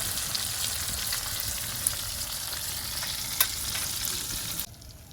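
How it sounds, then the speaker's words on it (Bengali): Pieces of rohu fish frying in oil in a pan give a steady, even sizzle with a couple of small sharp pops, heard up close, before the sound drops away at the end; no speech. "মাছগুলো এইভাবেই আর একটু ভেজে নেব"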